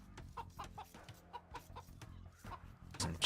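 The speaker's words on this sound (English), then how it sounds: "Some chickens rolling around here." Chickens in a strategy video game cluck in short, scattered bursts at moderate volume. The sparse clucks are close together and mixed with faint game sounds.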